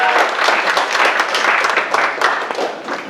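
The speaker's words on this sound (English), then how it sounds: "give a warm round of applause for your speaker" Warm audience applause for the speaker at a student developer club meeting, a loud, dense wash of many hands clapping throughout, with some crowd murmur mixed in.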